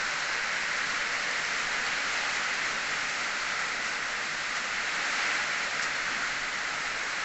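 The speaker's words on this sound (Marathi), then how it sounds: "बघा कसा पाऊस सुरू आहे" Steady, dense morning rain pours down in a continuous hiss, heavy and even throughout with no voices.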